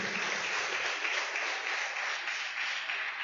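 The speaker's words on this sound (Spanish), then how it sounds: "Confirmalo con un aplauso." A church congregation breaks into sustained applause at a pastor's sermon, many hands clapping in a thick, even roar that holds steady at full strength throughout.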